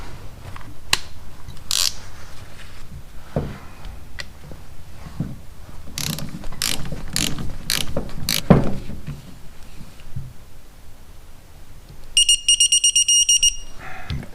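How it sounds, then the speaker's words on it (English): A torque wrench tightens bolts while front brake calipers go back onto a 1983 Shadow 750. Scattered close metallic clicks and ratcheting build to a rapid, regular run of sharp clicks near the end. "Let me get torque wrench."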